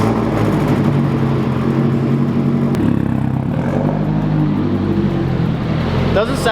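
A Hyundai Genesis with a straight-pipe exhaust idles loudly indoors in a shop, a deep, rumbling drone with a steady low throb throughout, punctuated by a brief metallic clank and a short squeak near the end.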